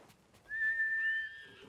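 A horse in the video game Ghost of Tsushima gives a short, thin whinny that rises and then holds for about a second; it is faint and heard alone, with no talking.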